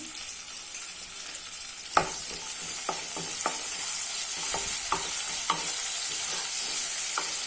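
Onions sautéing in oil in a pan for a village-style sundakkai vathal kuzhambu, a loud steady sizzle broken by occasional clinks and scrapes of a stirring spoon.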